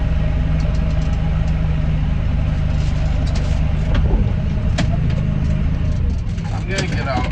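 A tractor engine runs steadily while spreading manure from a barn cleanout, a low, even hum with faint clanking on top, close and constant, easing slightly near the end.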